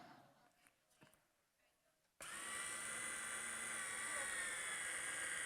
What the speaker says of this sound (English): we're going to add the dry ingredients here into the wet, and we're going to go back into blending